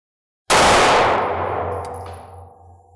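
A single sharp, loud 9mm handgun shot during a 50-foot accuracy test, bursting out of silence and decaying into a long ringing tail with a faint metallic ping.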